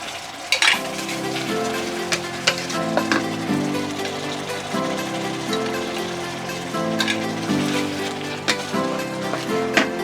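Broth poured into a hot wok of sizzling Thai seafood stir-fry with shrimp and squid, a loud steady crackling sizzle with intermittent clinks and scrapes of a spatula against the pan.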